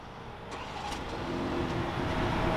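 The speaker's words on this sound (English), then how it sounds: "There's also the dual exhaust, which you can remote start." A 2023 BMW 330i M Sport with dual exhaust, started remotely, idles with a steady engine rumble that grows slightly louder over a couple of seconds, close by and with no talk.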